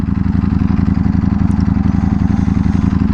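A Ducati Panigale V4S engine idles steadily up close, a rapid, even low-pitched pulsing with a throaty, loud rumble throughout.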